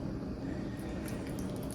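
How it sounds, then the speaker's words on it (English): Milk is poured into a bread pudding mixture with unmelted butter in a home kitchen, a soft, continuous liquid splashing and squishing close by. "let me go ahead on and pour this milk"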